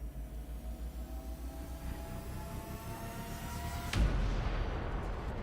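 A super weapon firing in Space Engineers: a low pulsing hum builds under rising tones, then a sudden heavy boom breaks out and a deep rumbling roar carries on afterward, loud and close.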